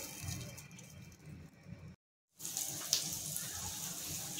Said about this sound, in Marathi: मच्छीचं पाणी टाकून आपल्याला एक मोठी उकळ काढून घ्यायची आहे